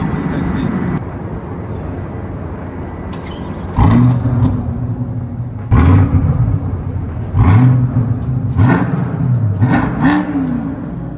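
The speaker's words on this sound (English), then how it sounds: "Full titanium exhaust, so it's pretty loud." A Chevrolet Corvette C8's full titanium exhaust revs repeatedly in loud, sharp bursts over a steady idle rumble, each blip rising and falling in pitch.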